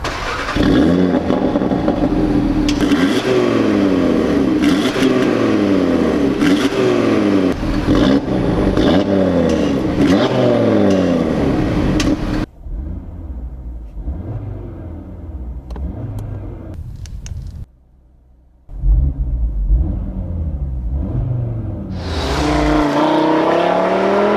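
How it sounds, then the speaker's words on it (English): A 2018 Audi TT RS with a selectable exhaust roars and revs repeatedly, rising and falling in pitch, cuts to a quieter rumble, then blares loudly again. "this one, equipped with a selectable exhaust, sounds amazing"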